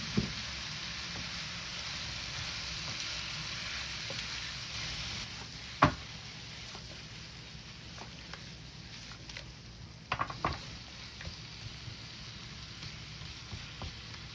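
Chicken pieces sautéing with tomato in a hot pan, a steady soft sizzle and frying hiss running throughout, with occasional utensil clacks and stirring knocks.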